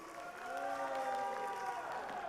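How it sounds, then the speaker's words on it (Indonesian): Steady applause from the audience at a regional candidates' public debate in Musi Rawas Utara rolls on continuously at moderate distance, with a tonal hum of music or voices underneath. "Boleh tepuk tangan untuk kita semua Bapak Ibu."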